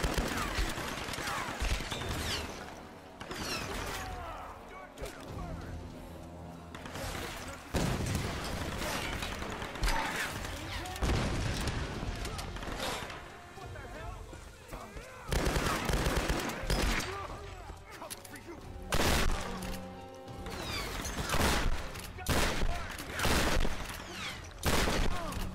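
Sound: gunfire in Tomb Raider Definitive Edition video game

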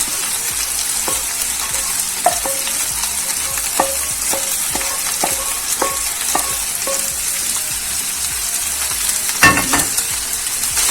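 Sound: stirring chicken and vegetables frying in a pan

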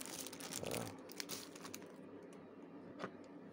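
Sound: opening a clear plastic toy package with scissors

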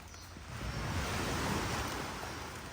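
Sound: sea waves

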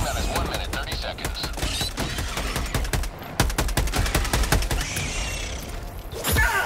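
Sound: machine gun sentry firing in video game Helldivers 2

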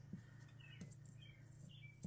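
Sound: small bird chirping outside

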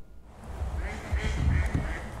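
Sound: Canada geese honking in a park

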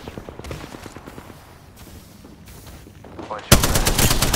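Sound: gunfire in a video game

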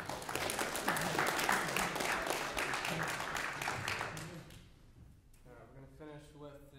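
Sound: audience applause at a recital

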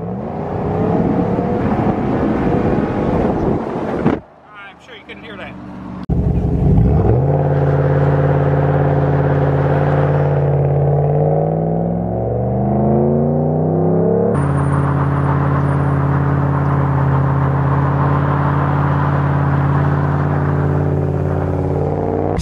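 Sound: lifted Ram 1500 truck engine revving, muffler removed

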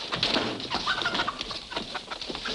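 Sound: chicken clucking

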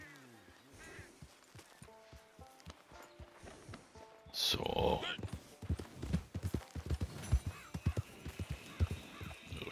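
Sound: horse hooves and neigh in Red Dead Redemption 2 video game

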